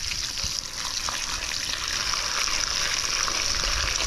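Water pours steadily into a cooking pot of cassava suman set over an outdoor fire, a continuous splashing gush that grows slightly louder over about four seconds, with no voices.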